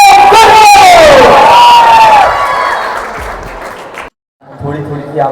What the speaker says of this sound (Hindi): एक बार जोरदार तालियों से स्वागत करेंगे सत्यम गुरु